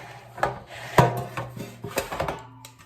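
An air fryer basket slides out with a few scraping, rubbing clatters and a sharper knock near the start, close by and fairly quiet.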